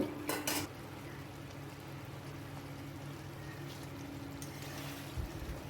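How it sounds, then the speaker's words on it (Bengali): Fish go into a hot pan and fry with a soft, steady sizzle, opening with a brief clatter of utensils and a few faint stirring knocks, fairly quiet and close. "তো এবার এর মধ্যে আমি মাছগুলো দিয়ে দেব।"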